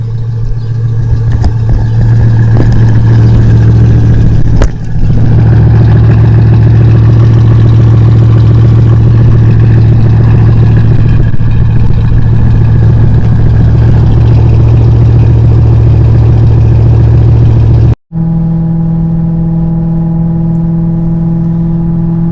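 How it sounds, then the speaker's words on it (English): A supercharged, warmed-up car engine with a VF Engineering supercharger idles steadily with a deep, even hum and a faint whine, close and loud, briefly cutting out near the end. "This is what the car sounds like when it's nice and warmed up"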